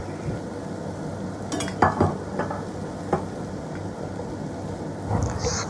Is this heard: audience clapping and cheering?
no